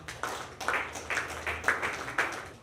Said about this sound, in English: So can we please clap for them?